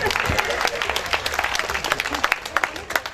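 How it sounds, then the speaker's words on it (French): Wedding guests break into applause, a dense crowd of hands clapping loudly and close for a few seconds, with voices mixed in. "Applaudissez pour elle."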